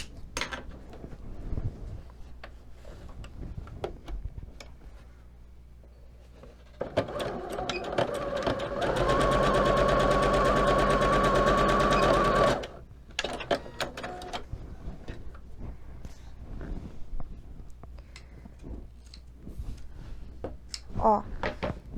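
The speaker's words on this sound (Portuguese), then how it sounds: "Então, eu só vou costurar daqui pra cima." Sewing machine stitching a seam on a doll-sized polo shirt, a steady whirring run of about six seconds in the middle, surrounded by quiet handling clicks and fabric rustles.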